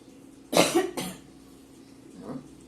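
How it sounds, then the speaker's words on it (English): A single sharp, close cough in two quick bursts, followed by a softer throaty exhale. "I got a cough, y'all, that I can't get rid of"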